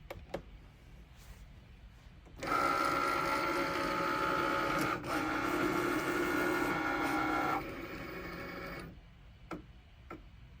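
A Cricut Maker with a fine point blade cuts 20 gauge non-adhesive vinyl, a steady whirring motor drone with a tonal whine lasting about five seconds, then a quieter mechanical hum and soft ticks before it stops.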